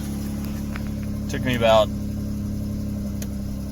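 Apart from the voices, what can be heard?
Dodge Challenger engine running after starting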